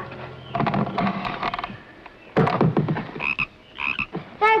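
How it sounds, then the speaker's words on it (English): Frog croaking comes in loud, close bursts of rough, pulsing calls, with several groups of croaks separated by short pauses. "Well, my little frog, it's nice to hear you croak again."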